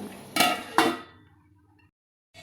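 A metal pot lid clanks twice onto a pan of cooking chana dal. The two sharp, close metallic clinks come in quick succession and ring briefly before fading, followed by a short quiet gap and another soft knock.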